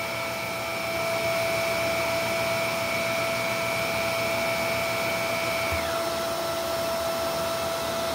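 A Shark NV750W vacuum cleaner runs at maximum suction and airflow on hard floor with the brush roll off, producing a loud, steady motor whine with a sustained high pitch that shifts slightly partway through.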